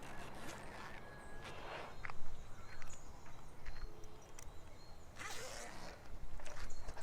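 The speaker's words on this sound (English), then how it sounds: "we can also zip it up back" A zipper is drawn along an expandable pet carrier backpack with breathable mesh sides, giving a few short, close rasping pulls separated by handling rustles, fairly quiet overall.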